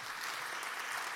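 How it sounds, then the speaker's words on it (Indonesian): Church congregation clapping together in applause during a worship service, a steady dense patter filling the whole moment at moderate distance. "Tepuk tangan buat Yesus."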